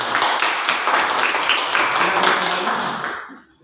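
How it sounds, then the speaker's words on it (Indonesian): Classroom applause for a student group, dense steady clapping from many hands close by that fades out in the last half second. "tepuk tangan untuk kelompok 3"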